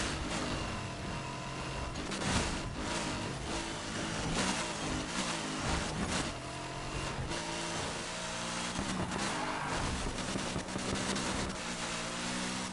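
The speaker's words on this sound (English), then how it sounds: "I need to adjust the exhaust sound now that it's high performance because it's loud as" A high-performance car exhaust in the racing game NFS Heat produces a loud, sustained engine drone with a tonal whine, rising and falling in pitch as the revs shift, and no talking over it.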